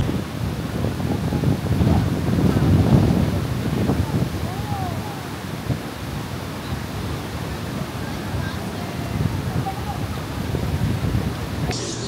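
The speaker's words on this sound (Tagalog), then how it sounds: "dito sa White Beach, sobrang lakas ng hangin gawa ng bagyong Krising" Strong typhoon wind roars across Boracay's White Beach, a continuous loud rushing with surging gusts and buffeting against the microphone, steady throughout with no voices heard.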